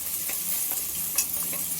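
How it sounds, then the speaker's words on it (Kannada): Green chillies, cinnamon, cloves and peppercorns fry in a pan, with a soft continuous sizzle and a few light stirring scrapes, fairly quiet and with no talking. "ಈಗ ಹಸಿಮೆಣಸಿನ್ಕಾಯಿ, ಚಕ್ಕೆ, ಲವಂಗ, ಕಾಳುಮೆಣಸು ಇಷ್ಟು ಹಾಕೊಂಡು ಫ್ರೈ ಮಾಡ್ಕೊಳ್ಳೋಣ"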